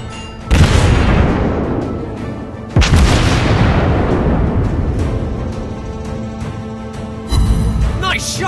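Heavy naval gunfire in World of Warships Blitz with a Tirpitz battleship: loud booming salvos, two big blasts about two seconds apart with long rumbling decay and a third burst near the end.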